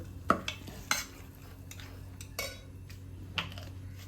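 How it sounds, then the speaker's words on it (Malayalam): Rava dosa batter being mixed in a bowl, with a few sharp spoon clicks and light scrapes against the rim, quiet and intermittent over a low background hum. "ഇനി ഇങ്ങനെ മാത്രം റൗണ്ടിൽ മാത്രം മിക്സ് ആക്കുക"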